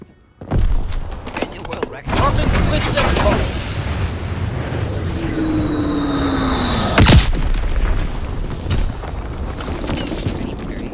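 Artillery fire in the video game Call of Duty WWII: heavy booms and a thick, continuous rumble of distant battle, with one sharp close blast partway through and a whistling sweep over the din, with a voice heard beneath.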